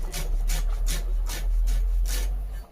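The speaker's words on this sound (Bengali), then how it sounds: "দেখো মিহি করে কাটছি" A knife repeatedly chops through a bunch of cleaned leafy greens, shredding them fine, about seven crisp rasping strokes in an even rhythm, close and alone.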